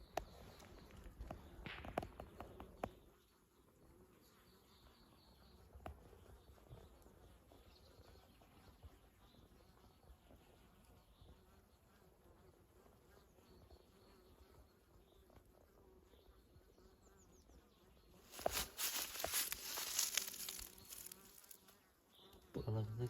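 Honey bees buzz steadily around a hive pipe during cleaning, a close continuous drone with louder bursts of activity near the start and again toward the end.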